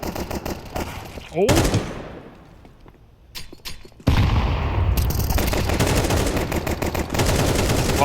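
Rapid pistol gunfire from Glocks trading shots in mid during a professional Counter-Strike match, loud bursts broken by a short quieter gap, with a caster shouting over the action.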